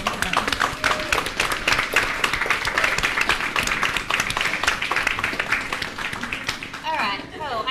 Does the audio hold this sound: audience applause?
yes